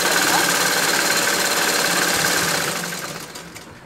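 A sewing machine stitches elastic onto boys' shorts with a steady, loud, close mechanical whir that eases off and slows near the end.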